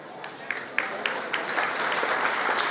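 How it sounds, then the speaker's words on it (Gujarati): Audience applause at a youth prize-giving and student honour ceremony, a steady wash of clapping with a few sharper individual claps standing out, building slightly and sustained throughout. "જોરદાર તાળીઓથી વધાવો ભાઈને."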